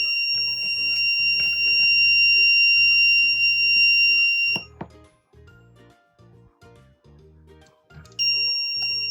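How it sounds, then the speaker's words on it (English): A DIY parking security system alarm sounds with a loud, high electronic tone, cuts off for a few seconds amid light clicks and handling noise, then starts sounding again. "see, alarm comes on."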